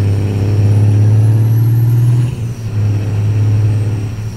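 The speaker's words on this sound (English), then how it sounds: "And Jake brake, of course." A heavy truck engine in American Truck Simulator, likely a Cummins N14, runs with a loud, steady low drone and a strong tonal hum that briefly dips, then picks back up with a Jake brake's rumble, with no talk.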